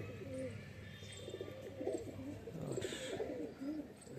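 A pet pigeon cooing near its nest box with a chick, soft repeated low coos in a gentle rhythm, close but quiet, over faint background hum.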